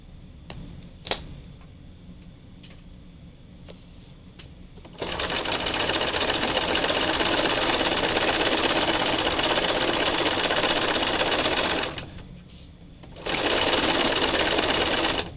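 A sewing machine runs steady, close-up stitches around the outside edge of a craft project. A long continuous run is followed by a short pause, then another burst of stitching, with faint handling clicks beforehand.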